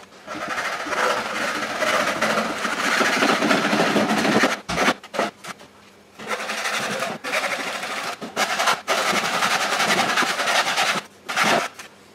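Hacksaw cutting a notch, a steady rasping back-and-forth stroke that runs continuously, broken by short pauses, close and fairly loud with no talk.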